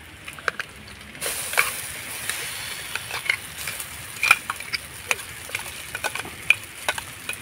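Green pea paste sizzles in a hot pan with ginger as a chop filling is made, with a steady close frying hiss and sharp spoon-and-pan clicks from stirring.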